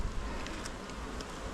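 Honey bees buzz in a dense, steady drone inside an open split-box hive, close and faint, with soft patter and crackle from the frames and no voices.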